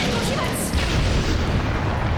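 A booming explosion bursts from a ninja fighting game, Naruto Shippuden Ultimate Ninja Storm 4, a dense loud rumbling blast that sustains through the moment with crackling noise on top.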